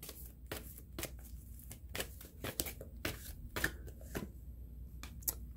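Tarot cards are shuffled by hand up close, a series of sharp riffling snaps and soft slides repeating irregularly over several seconds, with no talking.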